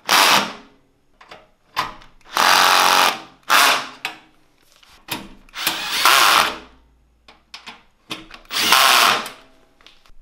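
Power drill driving screws while assembling a Parkside PTK 2000 table saw, giving loud whirring bursts of one to two seconds each, separated by short pauses and quiet handling clicks.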